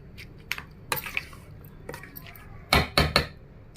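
Spoon clinks and scrapes through a cucumber and tomato salad with green chillies in a bowl, a few sharp taps early and then three louder, closely spaced knocks near the end, with soft wet squishing in between.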